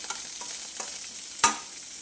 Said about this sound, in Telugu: ఇంకా వేగిపోయినాయి వెల్లిపాయలు కొంచెం దీంట్లో నూనెలోనే మగ్గిపోతుంది